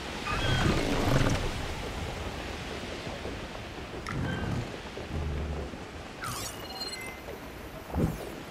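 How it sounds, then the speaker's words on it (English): A thunderstorm over an island in Horizon Forbidden West rolls on as steady rain hiss, with scattered thunder rumbles and crackles, a sharper strike near the end, and no talk. "Big storm. But it's only over that island."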